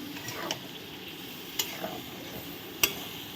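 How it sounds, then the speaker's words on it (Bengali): A spoon stirs spices in a pan after a little water is added for a coconut and pointed gourd dish, giving soft scrapes with a low sizzle and a few sharper clinks against the pan. "সামান্য পরিমাণ জল দিয়ে দিলাম আমি।"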